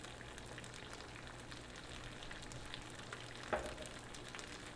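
Barbecue smoked sausage frying in a pan on a stovetop burner, giving a steady, soft crackling sizzle throughout with one slightly louder pop near the end, heard up close with no talking.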